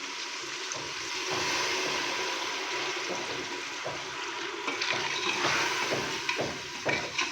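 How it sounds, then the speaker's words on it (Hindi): A little water goes into a sizzling masala of red chilli powder, crushed red chilli and cumin in a pot for arvi gosht, a taro root and beef curry, giving a loud, steady hiss and bubbling. "थोड़ा सा पानी डालेंगे"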